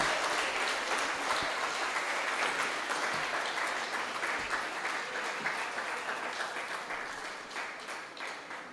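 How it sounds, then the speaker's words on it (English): Steady, sustained applause from an audience at a school Founder's Day lecture, a dense wash of clapping that stays even and fairly distant throughout, easing slightly at the end. "I believe we can give another round of applause, and a louder one this time."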